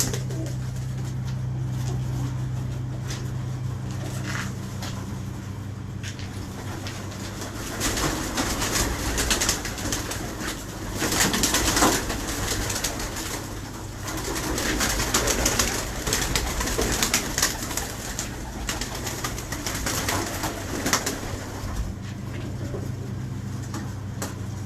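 Pigeons coo softly and repeatedly under a constant low hum and background noise, with scattered clicks and rustles of a pigeon loft running throughout.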